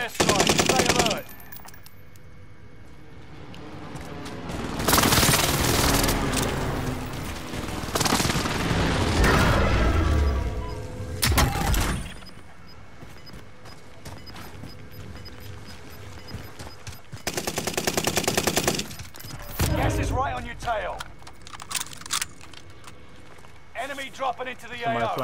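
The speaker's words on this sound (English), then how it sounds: "Enemy precision airstrike." Enemy precision airstrike in Call of Duty Warzone: several long bursts of rapid, rattling explosions and gunfire-like blasts come in waves separated by quieter gaps, with voices talking in between.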